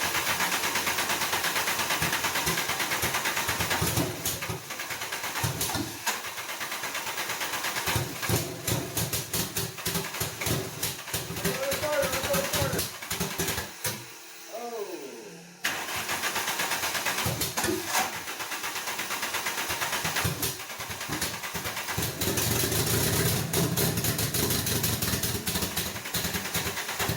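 A VW ABA 16-valve turbo engine runs steadily with rough mechanical clatter, revving and idling throughout, with a brief drop to near quiet around the middle before it picks back up loud and close.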